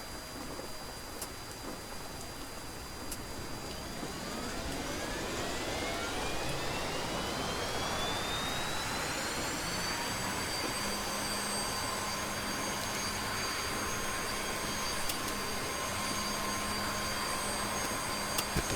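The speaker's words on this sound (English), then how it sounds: "So let's get the APU up and running." The auxiliary power unit of a UH-60L Black Hawk spools up in the DCS flight simulator: a rising turbine whine climbs steadily in pitch over several seconds, then settles into a loud, constant roar with a high tone.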